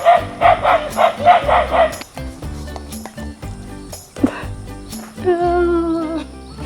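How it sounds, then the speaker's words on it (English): A neighborhood watchdog on a walking route in Bali barks in a quick rhythmic burst, then goes quiet before yipping and whimpering in rising tones, close and loud, with a few faint voices between the barks. "Neighborhood watchdog."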